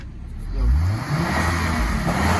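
A Hummer H3 engine revs up and holds a rough, low roar, close by, with no talking.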